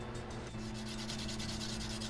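Steady rasping of sanding metal parts by hand, a continuous close scrubbing with no pauses and no voices.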